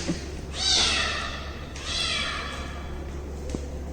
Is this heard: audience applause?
no